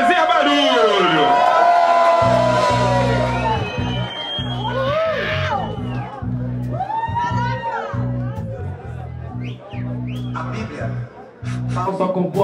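A hip hop concert crowd cheering, whooping and shouting under loud rhythmic music and an MC's voice, the mix of cheers and hubbub continuous and near throughout.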